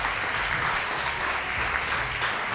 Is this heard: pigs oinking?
no